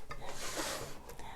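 Light hand sanding of a small solid wooden furniture piece before chalk painting, a brief soft rasping rub, close and faint, with no talk.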